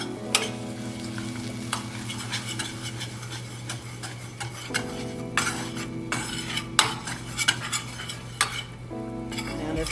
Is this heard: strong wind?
no